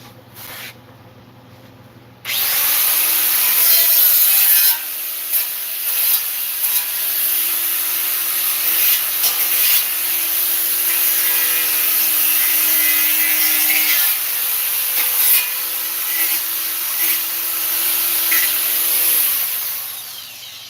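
A cut metal fender for a 1973 Harley-Davidson Super Glide is deburred with a power tool, a loud, close continuous whirring grind that starts abruptly and runs steadily with slight pitch shifts for nearly twenty seconds.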